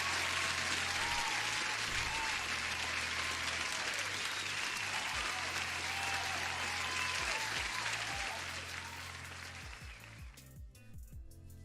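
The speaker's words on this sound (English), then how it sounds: "Wahab, huge applause" Sustained, dense applause during a live trading stream, steady and fairly loud before tapering off toward the end with a few scattered claps and low thumps.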